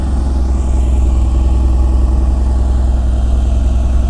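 A stock Mercedes-AMG GT R engine runs at a steady, loud, deep idle, its rumble close and continuous without any voices.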